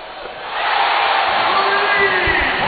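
A college basketball arena crowd at an Arkansas vs. Fresno State game swells into sustained cheering and roaring, loud and spread out, with a few sneaker squeaks audible beneath the noise.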